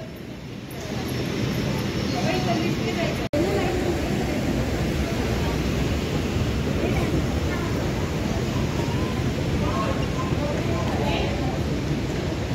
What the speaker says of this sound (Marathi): आता हीच मेट्रो पिंपरी चिंचवडकडे जाईल.